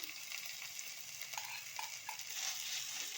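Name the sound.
frying crushed ginger and garlic with onion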